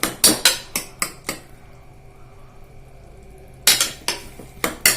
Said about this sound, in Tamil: ஆட் பண்ணிட்டு இதை நல்லா வதக்கி விட்டுக்கோங்க.